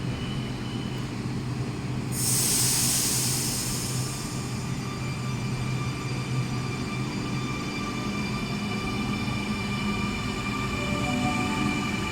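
An electric multiple unit train rumbles steadily as it departs, with a brief hiss of air early on and a faint rising electric whine as it pulls away.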